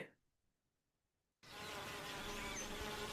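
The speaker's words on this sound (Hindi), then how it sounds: "Bees are called social insects because they live and work together as a community." A swarm of bees buzzes in a dense, steady drone that starts abruptly after a moment of near silence and holds loud and continuous, with no talking.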